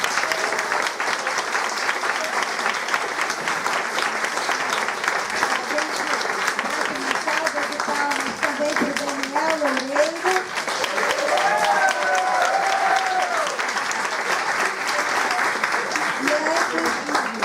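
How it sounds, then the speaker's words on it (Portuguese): An audience applauds a guest lecturer at an inaugural institute lecture, sustained clapping filling the room for the whole stretch while bits of voices and chatter rise through the crowd noise. "vou pedir então que a gente bate uma salva de palmas para ele"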